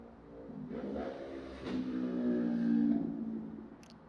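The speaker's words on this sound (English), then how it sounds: "That's a motorcycle." A motor vehicle engine, probably a motorcycle, passes outdoors, rising to a moderate peak near the middle and fading again, heard alone at mid distance.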